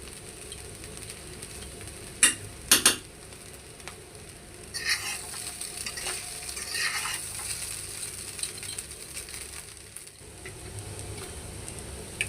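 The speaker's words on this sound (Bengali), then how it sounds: "চিরার পোলাও কিন্তু ভালো করে ফ্রাই করতে হবে বন্ধুরা।" Chira pulao, flattened rice with sambar masala, frying in ghee while being stirred: a couple of sharp metallic clanks early, then a continuous moderate sizzle with soft scraping of the spoon through the pan.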